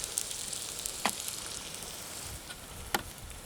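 Onions and burgers sizzle and fry on a camping stove at a wild campsite, a steady broadband hiss with a few brief clicks and pops, close and moderately quiet throughout.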